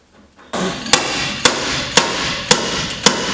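A small slide hammer fitted with a chuck pulls a nail from a converted Iveco Daily van, giving five sharp metallic knocks at an even pace over a constant background hum.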